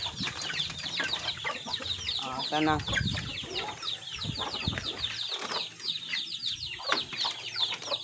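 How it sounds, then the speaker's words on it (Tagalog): Pet chickens at feeding time clucking and squawking close by in quick, busy bursts, with a brief flurry of wing flaps, while a person speaks softly. "akong mga alagang manok"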